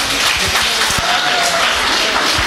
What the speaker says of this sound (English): Let us give a big round of applause to Geeta madam.